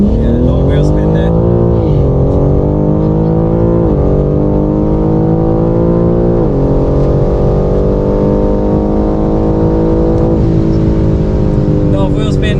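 A BMW G80 M3 Competition launches at a drag strip with wheel spin, its engine droning loud and steady as the revs climb and shift, close and constant throughout.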